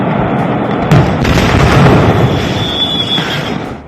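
Firecracker factory explosions during the Harda fire roar in a continuous rumbling wash heard from a distance, with a few sharper bangs and crackles rising above the dense noise.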